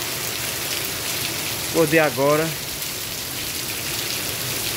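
Heavy rain falls at night in Santana do Ipanema, a steady, dense hiss that stays constant throughout, with someone speaking briefly over it partway through.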